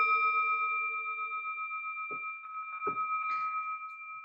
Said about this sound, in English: So we're ringing the bell for the collective well-being and upliftment for all.